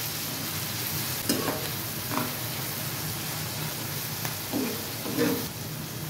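Tomato and salt are stirred in a frying pan for masala macaroni, giving a steady close sizzle with a few soft scraping strokes.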